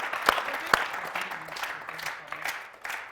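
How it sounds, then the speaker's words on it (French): A few sharp hand claps ring out in a loose, scattered rhythm, with a murmur of voices underneath. "applaudissements pour l'accompagner"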